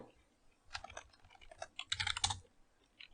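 Typing on a computer keyboard, close and quiet, irregular bursts of key clicks with short pauses and a denser flurry near the end, no talk.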